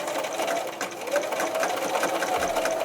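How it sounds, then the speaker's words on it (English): A sewing machine edge stitches along backpack straps for a doll backpack, its rapid, steady needle chatter running close and continuous throughout. "now we're going to edge stitch the straps"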